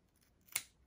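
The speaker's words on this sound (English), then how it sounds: "So just line up your scissors and cut that off." A single quick snip of scissors cutting through duct tape sounds close and crisp against a quiet background.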